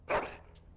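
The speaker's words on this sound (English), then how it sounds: "He bounces around you, barking excitedly." A single short, sharp dog bark from Dragon Age: Origins, close and fairly loud, followed by a faint brief click in a quiet background.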